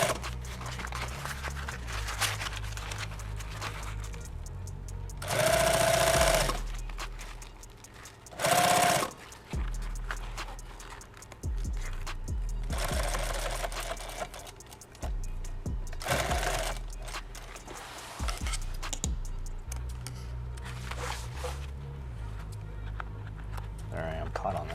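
An industrial sewing machine stitching a bag in a workshop, several short loud bursts of rapid stitching between quieter handling noise, with someone talking at times.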